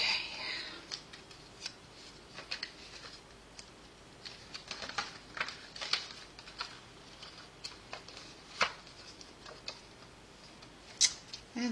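Scissors snip through plastic at a card-making craft table, producing soft, faint, irregular cutting clicks spread across the stretch with a quiet background.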